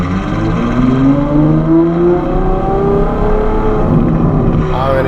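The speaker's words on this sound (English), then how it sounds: "I'm gonna just try and keep the revs up." A Novitec Ferrari F12 N-Largo engine drones at high revs, its pitch climbing steadily as it accelerates, loud and close throughout.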